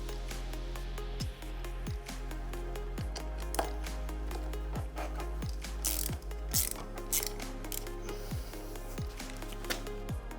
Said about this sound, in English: take out these two Allen keys and loosen this one at the back